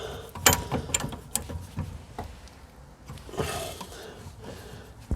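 A tool winds back the stiff, long-unused rear brake caliper piston on an Audi A2, giving a series of close, uneven mechanical clicks and ratcheting clunks with grinding scrapes between them, no talking.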